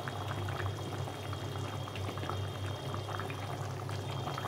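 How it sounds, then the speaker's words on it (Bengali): Fish curry gravy boils steadily in a pot, giving a continuous close bubbling and gurgling with a low simmering rumble and no voices. "ঝোলটা ফুটে গেছে, এখন মাছগুলো দিয়ে দেবো।"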